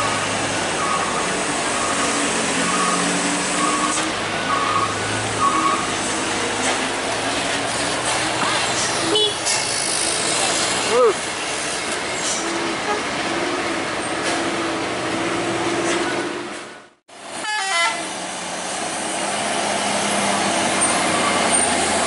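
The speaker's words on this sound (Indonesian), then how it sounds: "Ada medium bus lagi." A medium bus rumbles past on a steep mountain road at Sitinjau Lauik, with a loud, continuous engine drone and road roar, a brief hiss like an air brake, and a short dip before traffic noise resumes.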